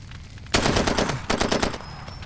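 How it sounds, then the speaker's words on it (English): A rapid burst of automatic gunfire in Far Cry 2, then a second shorter burst, with faint metallic clinks of casings dropping and a thin high tone trailing after. "You can even hear the bullets dropping at your feet."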